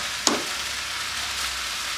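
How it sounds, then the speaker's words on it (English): A gold band snapper fish parcel sizzles on a hot plate with a sharp hiss at first contact, then settles into a steady, close frying crackle. "You can hear it sizzling away already"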